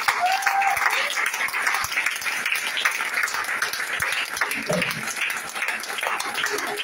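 A church congregation claps and cheers during a deliverance service, a sustained crowd roar with scattered individual claps and shouts, fairly loud and continuous, with a voice briefly rising over it.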